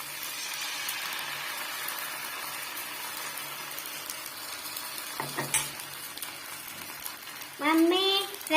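Dosa batter is poured onto a hot pan greased with ghee, and a soft, steady sizzle follows, broken by a few clinks of a utensil and a short bit of voice near the end.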